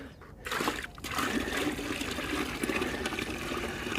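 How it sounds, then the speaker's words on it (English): Water darkened with squid ink is tipped out of a bucket, a brief pause giving way to a steady pouring splash and trickle that runs on for several seconds, close and fairly loud. "Tip the old water out."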